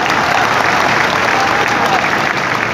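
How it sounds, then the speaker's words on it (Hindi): Applause from the audience at a poetry gathering during a festival in Raigarh, a dense, continuous wash of clapping close by that stays steady and loud for its brief length. "तालियां थोड़ी आपकी कमजोर हैं।"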